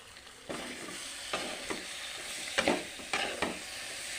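Potatoes with green chili sautéing in a hot pan, a soft steady sizzle broken by several sharp spatula scrapes and taps at irregular intervals, close and fairly quiet, with no voices.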